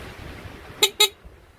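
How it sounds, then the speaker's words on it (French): A new horn on a Rieju RS3 motorcycle sounds two short, loud beeps in quick succession, close by and alone against a quiet background. "j'ai monté le nouveau klaxon, on va essayer"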